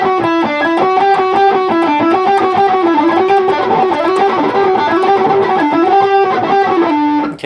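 Distorted electric guitar picks a steady run of single notes in strict alternating down-up strokes across the strings, even and loud throughout with no talking.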